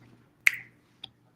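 A single crisp finger snap rings out close and clear against a quiet room, with a faint tick following a moment later.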